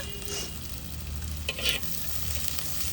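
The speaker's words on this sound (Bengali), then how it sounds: "শুটকির পেঁয়াজ বেশি ভাজতে হয় না" Onions frying in a pan for a dried fish curry, a steady close sizzle with stirring and a few brief scraping clatters, no voices.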